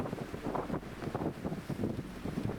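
Steady gusting wind buffets the microphone outdoors on a disc golf course, a broad rushing roar that swells and dips in waves with no voices heard.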